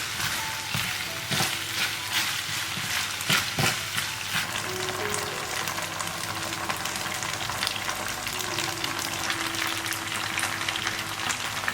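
Pork neck sizzles loudly in a pot as scallion pieces are tossed in and stirred. The steady frying hiss runs throughout, broken by scraping stir strokes.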